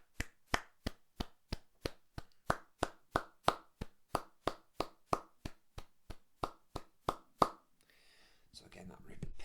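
Hand claps beat out a steady quaver rhythm of a Bach basso continuo line, about twenty sharp, evenly spaced claps heard close and alone, then they stop and faint noise takes over.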